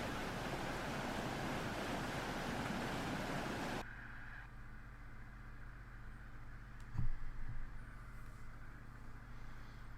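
A waterfall at Dinosaur National Monument roars as a dense, loud rushing wash for the first few seconds. It then cuts to a quieter outdoor background with a couple of soft bumps.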